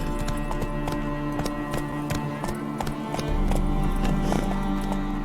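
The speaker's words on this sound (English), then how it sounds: "Run, Roach." The horse Roach gallops in the Witcher 3 video game, with rapid rhythmic hoofbeats pounding close over a low rumbling background and a brief whinny-like sound near the end.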